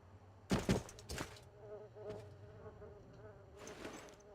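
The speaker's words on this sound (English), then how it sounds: "Somebody else deal with the wasps. I don't feel like dealing with the wasps." Wasps in the video game Morrowind buzz in a steady, droning hum, with a louder swell near the start and another toward the end, heard alone without talk.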